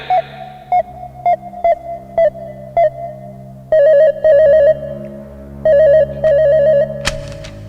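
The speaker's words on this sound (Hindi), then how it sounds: "कंप्यूटर जी, कल्लो की चाची को फोन मिलाया जाए" A telephone rings repeatedly in short electronic bursts, first single trills and then longer warbling pairs, clear and close, ending with a sharp click.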